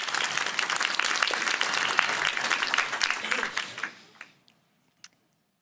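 A forum audience at a NATO Public Forum gives a warm round of applause, dense and sustained for about four seconds before tapering off into scattered final claps and silence.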